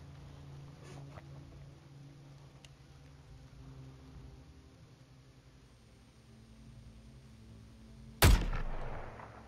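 A single sharp gunshot cracks out near the end of a quiet stretch in the Suicide Squad: Kill the Justice League video game, loud and close with a short ringing tail after a low ambient hum.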